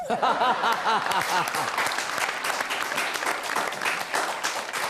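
An audience at a Hindi humorous-satire poetry recital breaks into brisk, crackling applause, with voices calling out over the first second or so before the clapping carries on alone, close and lively.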